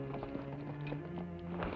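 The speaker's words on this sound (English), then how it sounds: "Horse without rider way out here in a deserted barn." A riderless horse in a deserted barn clip-clops steadily at close range, its hoofbeats rhythmic and clear over a low hum, with no talk.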